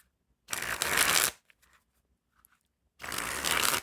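A new gilded deck of playing cards is shuffled in two loud, close bursts of riffling, each about a second long, with a quiet pause and faint handling clicks between them.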